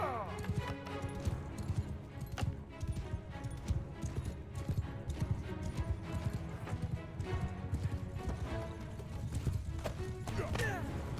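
Horses gallop through a Mount & Blade Bannerlord battle, with steady clip-clop hoofbeats and an occasional whinny running under music and battle noise, and a voice talks over it throughout.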